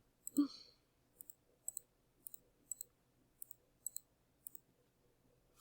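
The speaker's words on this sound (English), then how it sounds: "So you can do that by right-clicking and deleting." Computer mouse clicks sound quietly and steadily, roughly one every half second, in a silent room after a brief soft noise at the start.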